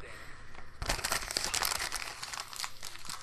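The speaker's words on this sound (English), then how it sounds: "I'm gonna tear a piece of paper" A sheet of paper being torn, starting quiet and then breaking into a close, loud crinkling rip that carries on for a few seconds with no voices.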